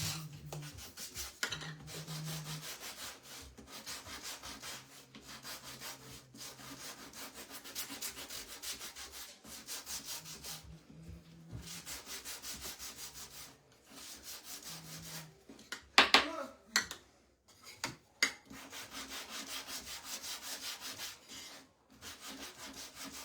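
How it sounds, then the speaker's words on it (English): Hand sanding of white-painted wooden pieces for a Christmas sign gives steady, rhythmic scratchy strokes with short pauses between passes. The sound is close and fairly quiet, with a few louder knocks near the end. "we're going to take the white ones and sand those too."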